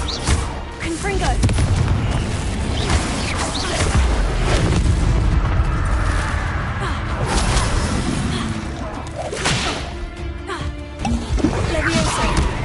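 Repeated Confringo fire-spell blasts in Hogwarts Legacy during a fight with a giant spider, booming and crashing one after another amid dense combat noise, with a voice speaking over it.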